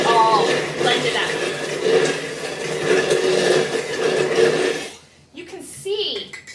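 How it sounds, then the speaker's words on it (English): An immersion blender whirs steadily through a garlic dressing for about five seconds, loud and close, then cuts out and leaves a quiet pause with a few faint kitchen sounds. "I'm going to use my immersion blender, and I'm just going to blend it up"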